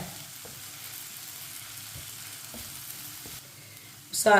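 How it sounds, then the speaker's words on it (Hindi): Spice masala for stuffed bitter gourd (bharwa karela) fries steadily in a pan over low flame, a soft continuous sizzle with occasional stirring taps, close by, ending in a brief louder clatter. "दो मिनट के लिए पका लेंगे मसालों को भी"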